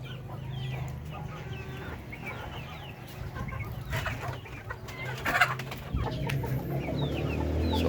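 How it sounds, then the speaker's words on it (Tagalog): Several chickens cluck and chatter nearby outdoors, with a rooster crowing faintly in the background amid a low steady hum. "yung mga manok natin na nasa labas na yan."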